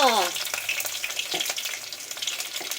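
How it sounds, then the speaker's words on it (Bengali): Green chilies hit hot oil in a home pan and burst into loud, steady sizzling with sharp crackles and pops, continuous throughout, with a brief voice at the very start. "ও লঙ্কা তুমি এত চলবর করো কেন"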